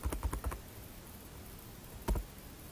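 Keys tapped on a computer keyboard in a quick burst of several strokes, a pause of steady room hiss, then a couple more keystrokes, close and fairly quiet.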